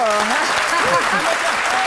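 Audience applause in a television studio as a tribute to Joseph Ondjou, an Ivorian communications figure, steady clapping continuing under overlapping voices and tonal music.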